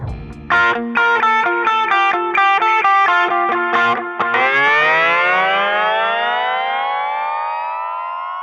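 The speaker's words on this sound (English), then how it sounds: "the delay was a single delay set at quarter note, feedback at 50, effect level at 90" An electric guitar through a Boss MS-3 single quarter-note delay plays a quick run of repeating notes, each echoed by the delay, then a sustained bending note rings out and decays.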